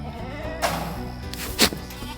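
Male goat bleating on a farm, two short nasal cries about a second apart, fairly close and clear with no talk.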